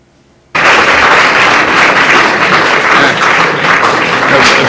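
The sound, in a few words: applause in a played recording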